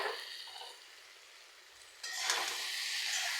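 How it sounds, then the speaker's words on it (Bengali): Soybeans and boiled potatoes frying with onions make a quiet, soft sizzle that grows into a brighter, steadier hiss partway through. "পেঁয়াজটার সাথে সয়াবিনটা একটু ভালো করে ভেজে নেব।"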